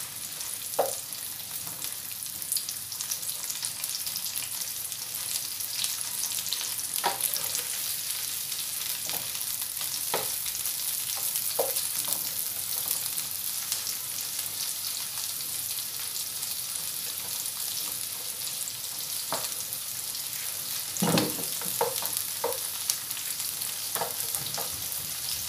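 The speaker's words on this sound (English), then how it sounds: "Our mushroom has been frying for over 5 minutes, so we're going to take it out from the oil." Steady sizzling of mushrooms frying in hot oil, a continuous crackle with occasional sharper pops and stirring, no talking.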